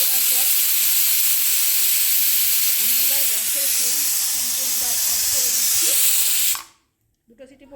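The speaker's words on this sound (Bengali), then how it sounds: "তো দেখো আরেকটা সিটি ধরে গেছে" A pressure cooker on the stove whistles while cooking aloo dum, a loud sustained hiss of escaping steam that cuts off abruptly, with a voice faintly audible underneath.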